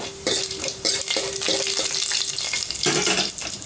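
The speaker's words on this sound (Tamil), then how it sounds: "கடுகு பொரிஞ்சோடனே கடலைப்பருப்பு போட்டுக்கலாம், கொஞ்சம் உளுந்து போட்டுக்கலாம்," Mustard seeds, chana dal and urad dal fry in hot oil for turker berry sambar, a busy close sizzle with popping crackles and stirring scrapes throughout.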